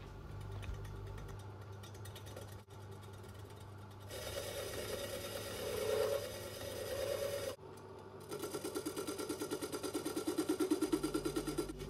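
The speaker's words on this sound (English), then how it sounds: "clamp the right hand crankcases onto my milling machine table with the rough sawn surfaces pointing upwards so I can mill them nice and smooth" A milling machine cuts the rough sawn faces of cast aluminium Kawasaki S1 four-cylinder crankcases clamped to the table, giving a steady mechanical whir with a brief pause and then a louder, rattling cutting pass.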